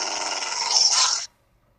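A snarling creature sound effect from a Minecraft horror sound set: a single raspy, breathy growl lasting just over a second, rough and fairly loud, then cutting off abruptly into silence.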